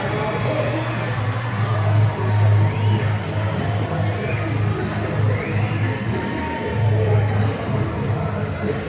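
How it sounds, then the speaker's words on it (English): Crowd at a volleyball game cheers and murmurs steadily throughout, a loud, dense roar of many voices swelling near the middle and again toward the end. "crowd loving it."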